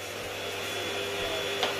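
Household vacuum cleaner running steadily nearby, a continuous whining drone with airy hiss throughout.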